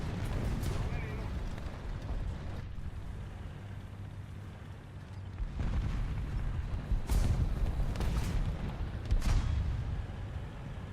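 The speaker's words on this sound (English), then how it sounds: "apparently it even survives the direct hits with AP shells or whatever it was shot with right now" AP shells hitting a vehicle in War Thunder. Several sharp, heavy impacts land a second or two apart over rumbling battle noise, with someone talking throughout.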